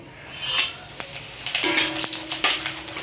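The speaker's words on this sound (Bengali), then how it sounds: "অল্প তেল দিয়ে দিলাম দিয়ে দেব পাঁচফোড়ন তেজপাতা লবঙ্গ এলাচি আর দারচিনি" Whole spices including panch phoron, bay leaf, cloves, cardamom and cinnamon frying in a little oil in a village kitchen, a soft continuous sizzle close by with several sharp clicks and scrapes of stirring, no voices.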